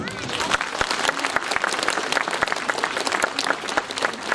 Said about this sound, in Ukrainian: Давайте всі одне одного привітаємо оплесками.